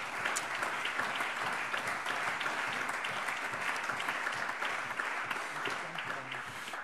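Sustained applause fills a plenary session of the Hessian state parliament, a dense, even patter of many hands clapping at once for several seconds.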